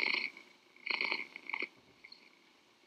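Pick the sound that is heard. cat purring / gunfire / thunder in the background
cat purring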